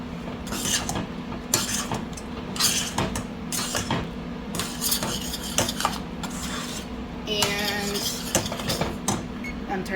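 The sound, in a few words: stirring a shrimp dish with a utensil in a pot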